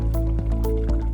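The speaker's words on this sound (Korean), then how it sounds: "홀토마토 통조림을 넣을게요. 손으로 으깨서 넣으셔도 되고요." Canned whole tomatoes drop into a simmering chili con carne stew and get crushed, giving a close, wet squishing and dripping sound with a few soft pulses and no talk.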